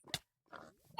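A small pig in Minecraft gives short oinking grunts in three brief bursts separated by silence, the last one loudest and closest.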